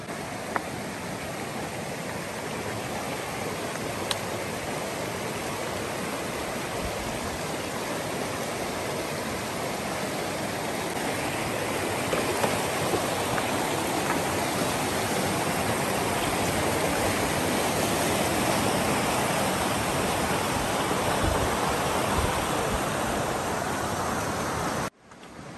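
A river rushing through a canyon in Nicaragua, a steady broadband roar of flowing water that holds at an even loudness throughout, with no voices.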